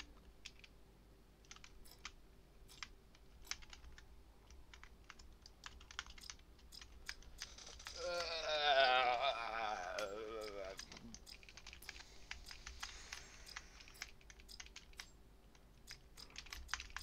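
Computer keyboard keys clicked repeatedly during Resident Evil Village play, a steady run of sharp, close taps across the whole stretch, with a burst of louder game sound and a voice partway through.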